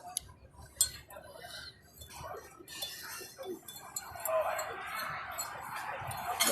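A spoon scrapes and clinks against a bowl while stirring a mixture with two eggs in it, light irregular taps and swishes that grow into a steadier wet churning, with a person talking intermittently over it.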